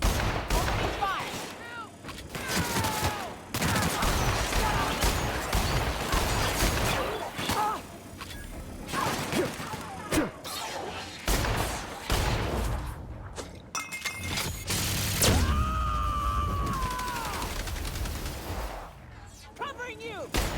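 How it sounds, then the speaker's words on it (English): Gunfire from combat in The Outer Worlds rattles nearly nonstop, with loud bursts and sharp impacts layered over music and shouted voices. "Opening fire!"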